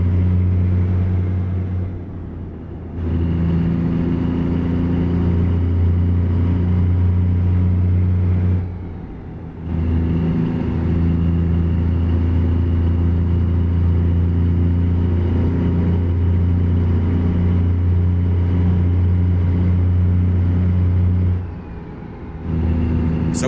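A Kenworth truck engine drones steadily while driving at night. The low rumble is loud and continuous, with two brief dips where the engine sound drops away.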